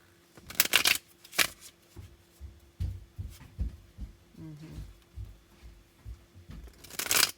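Tarot cards being shuffled by hand in a few quick riffling bursts at the start and end, with soft low thumps and handling noises between them, close and moderately loud.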